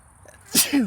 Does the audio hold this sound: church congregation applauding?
no